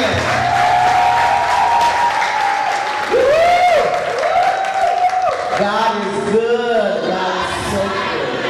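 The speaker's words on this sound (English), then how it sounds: "Please give Michel a hand forward." A church audience at a praise and worship night applauds Michel, sustained clapping filling the room while a voice sings or speaks over it at moderate loudness.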